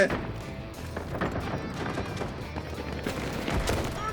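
Shotgun fire in the shooter game Delta Force: a sharp blast at the start, followed by scattered shots and thuds mixed with ongoing game noise, moderately loud. A faint voice is heard at times.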